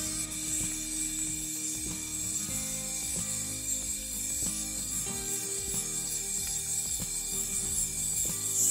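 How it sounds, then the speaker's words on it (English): A rolling mill working a piece of scrap gold for a men's ring, giving a continuous close mechanical grinding and ratcheting with repeated regular clicks and a steady high whine. "And then the piece again back to the machine until we get the right length."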